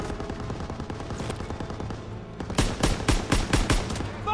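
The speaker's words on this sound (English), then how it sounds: "Gotta suppress the machine gun!" Machine gun fire in the World War II shooter Call of Duty WW2, battle noise building before loud, rapid bursts of automatic shots crack out in quick succession over the final two seconds.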